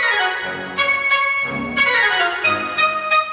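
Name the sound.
short staccato woodwinds playing fast runs then spaced notes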